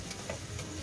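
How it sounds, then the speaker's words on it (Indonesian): Potato pieces frying in hot oil at an outdoor camping cookout, a steady close sizzle with faint crackles and no voices over it. "kentangnya sudah mulai digoreng untuk teman sosis nanti"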